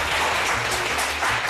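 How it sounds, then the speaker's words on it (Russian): Studio audience applause on a Russian cooking show during the baking of a flourless orange cake, a brief burst of steady, fairly loud clapping from many hands. "Ваши аплодисменты, друзья."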